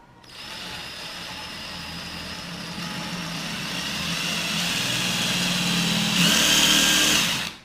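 A power drill whirs steadily, close and loud, drilling at a 45-degree angle with soap and water while installing a shower, its pitch rising slightly toward the end before it cuts off.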